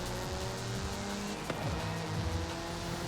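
A widebody-kit Ford Focus in Forza Horizon 5 runs with a continuous engine roar and rising, falling revs as it shifts through gears, near and steady, with a brief squeal of tires.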